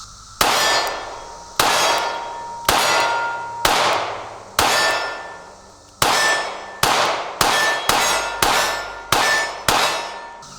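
A Zulisy Otter Pro micro red dot sight dropped again and again in a drop test, about a dozen sharp metallic clangs with ringing decay, spaced roughly a second apart, loud and close with no talk.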